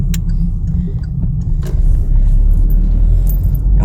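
A 2018 Chevrolet Onix 1.0 LT accelerates in fourth gear, its engine rumbling low and steady inside the cabin, then swelling louder as the throttle opens partway through.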